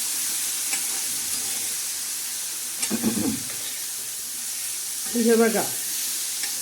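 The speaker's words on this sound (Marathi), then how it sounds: "मस्त अशी परतून घ्यायची छान अशी तेलामध्ये." Amaranth leaf greens stirred in hot oil in a pan with green chillies, garlic and cumin, giving a steady soft sizzle and two brief bursts of scraping and stirring, with someone speaking quietly over the cooking.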